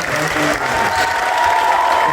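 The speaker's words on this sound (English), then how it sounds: "let's get a big round of applause for our guests" A convention audience applauds panel guests at a Halo panel, a steady, dense roar of clapping sustained throughout with some crowd noise mixed in.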